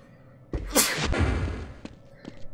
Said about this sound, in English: Oh, I gotta sneeze, guys.